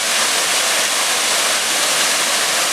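Stream water rushing toward a waterfall of nearly 50 metres in Tamarana, Paraná, a loud, steady, broadband roar of flowing water, close and continuous without pause.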